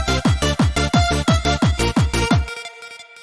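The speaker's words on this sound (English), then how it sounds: "I'm using Serum. I've got 2 layers of Serum for my melody" Synth melody built from two layered Serum instances in FL Studio: a bright, pulsing line of about nine rhythmic notes with a swooping low attack on each, ending in a short fading tail, played alone.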